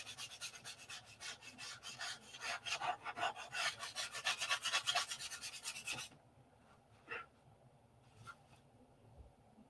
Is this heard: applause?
no